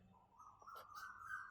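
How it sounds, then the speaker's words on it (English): A bird calling outside behind an indoor speaker, faint chirps and a rising whistled note in the distance, with a quiet room hum underneath and no talking. "I think you can hear the bird sound coming from my back actually"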